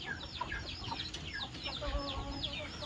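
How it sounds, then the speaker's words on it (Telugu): Native country hens cluck softly while rapid high chirps repeat over them, a busy and fairly quiet coop chorus with no clear speech. "వచ్చేసి అయితే 2 కోళ్ళు కూర్చున్నాయి"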